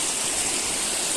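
Rushing waterfall at the edge of a drop in the Sri Lankan forest, a steady broadband roar of falling water, loud and continuous with no voices.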